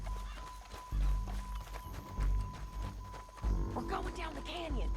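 Horse hooves clip-clop along rocky canyon paths in Red Dead Redemption 2, in a steady walking rhythm beneath game music and someone speaking over it.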